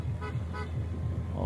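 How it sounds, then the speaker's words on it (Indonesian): A boat horn on the Musi River in Palembang gives two short, light toots close together, set over a steady low engine rumble of river traffic. "Klakson tipis-tipis nih."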